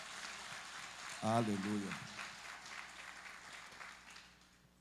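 A church congregation applauds in praise during a Sunday morning service, a steady wash of clapping running throughout while a voice calls out in a sung, drawn-out cry near the start.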